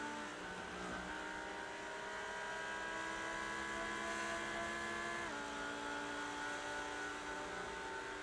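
GT3 race cars, a Porsche and a Lamborghini, racing at Daytona, heard as a steady droning engine roar with tonal whine that shifts pitch midway, continuous and fairly distant.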